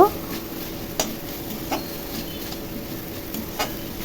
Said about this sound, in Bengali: আলু এবং মশলা ও গোবিন্দভোগ চাল খুব ভালো করে কষিয়ে নেব